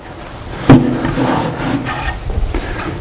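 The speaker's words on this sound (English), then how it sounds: "So I'm going to put the last screw in here." A screw is driven into a wooden wall cabinet box built with a Kreg pocket-hole jig: one sharp close knock, then a grinding, rasping wood-on-metal rub that fades out over a few seconds.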